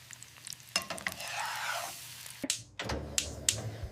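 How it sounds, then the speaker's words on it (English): Eggs frying in hot oil in a home kitchen pan, a steady close sizzle with brief louder spatters and a few sharp clicks or knocks. "I fry eggs."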